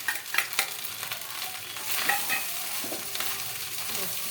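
Shrimp and mixed vegetables stir-fried in a pan, with a steady hiss of sizzling oil and several scraping stirs of a utensil near the start and middle, no talking.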